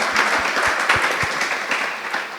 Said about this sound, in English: Can we have a round of applause? For the wonderful panel.